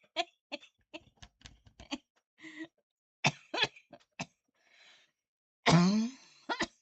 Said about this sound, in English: I cough when I laugh.